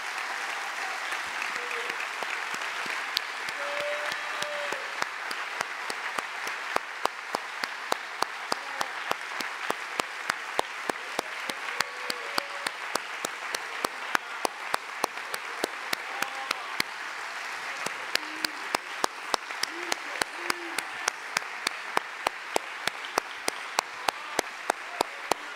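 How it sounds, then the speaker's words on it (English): A church congregation applauds in a steady wash of clapping that settles into a sharp, even rhythmic beat. Scattered voices call out faintly beneath the claps. "give the leader of this church a hand clap of praise right now."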